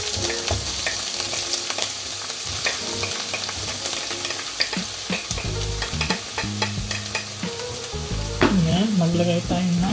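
Onions and ground meat sizzling loudly in a hot pan for bolognese sauce, a dense crackling fry broken by scraping stirs and clanks of a utensil, with a brief tonal squeak near the end.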